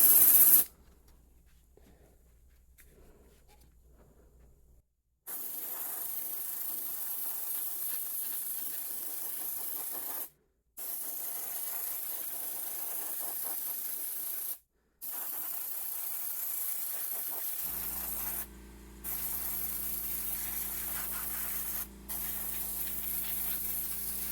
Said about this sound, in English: if you pull back just a little bit, it'll just spray air